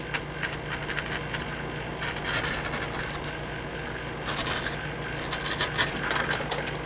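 An edge beveler tool shaves along the edge of vegetable tanned leather, a soft continuous scraping with light rasping bursts, close and fairly quiet with no talk.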